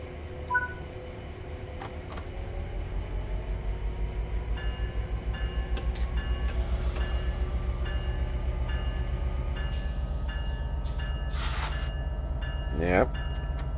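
Train in the video game Train Sim World 5 on the San Bernardino Line, a steady low rumble of the locomotive running throughout, with a few brief tones and a rising whine near the end.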